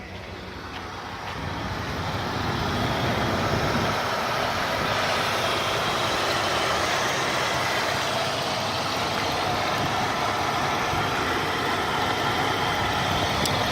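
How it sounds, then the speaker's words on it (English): Mercury Cougar V8 engine idling with a lopey, sometimes rough idle, a steady low rumbling drone heard close up that holds without a break from start to finish, with no voices. "Idle is okay. Sometimes it runs rough, sometimes it runs smooth."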